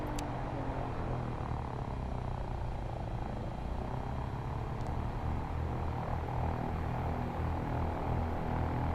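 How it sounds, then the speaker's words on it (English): In X-Plane 11, a Cessna 172 propeller aircraft drones steadily for several seconds, a continuous engine and propeller hum that stays level and moderately loud throughout. "I hear a propeller behind me. 172."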